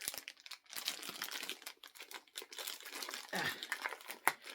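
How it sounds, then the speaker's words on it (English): Close crinkling and tearing of plastic packaging as a lightsaber is unboxed, irregular bursts of rustling with short gaps and a sharper rip near the end, fairly quiet. "let's get this plastic open"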